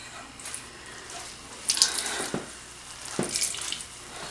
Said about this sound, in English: We are going to squeeze this out.